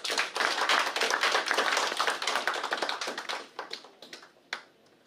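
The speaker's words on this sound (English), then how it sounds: "Can we just give a round of applause, please?" Audience at a Micronesia clean-up day award ceremony breaks into a round of applause, brisk dense clapping that thins out into a few scattered final claps and stops.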